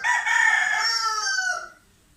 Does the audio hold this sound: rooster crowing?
yes